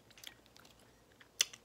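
Chewing on graham crackers eaten with butter pecan ice cream, soft close crunches scattered through the moment with one sharper bite standing out near the end, no talking.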